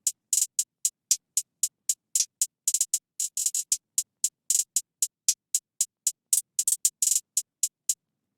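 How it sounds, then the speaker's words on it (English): Crisp, bright hi-hat pattern from a trap beat, quick ticking hits in a steady rhythm with rapid rolls and stutters, played alone without drums or melody. "So these are the hats."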